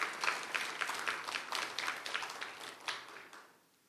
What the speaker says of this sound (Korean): 박수로 한번 감사를 표현해 볼까요?